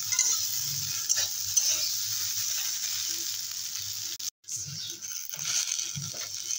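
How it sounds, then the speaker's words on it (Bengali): Cut okra sizzles in a pan as it is stirred, a continuous moderate frying hiss with soft scraping, a brief break midway, then the sizzle resumes. "আমি কাটা ভেন্ডি দিয়েই রান্না করছি।"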